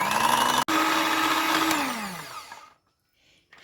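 An electric hand mixer whirs steadily while beating cake batter of oil and sugar, with a brief cut in the whine. The motor then winds down and stops, leaving near silence.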